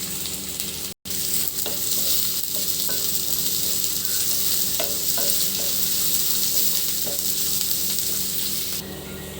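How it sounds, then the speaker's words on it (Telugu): Onion and green chilli pieces fry in a pan with a steady, loud sizzle that holds throughout, broken by an occasional light tap or stir and one brief dropout near the start. "మొత్తం వేసి బాగా కొంచెం మగ్గేటట్టు ఫ్రై చేసుకున్నాము."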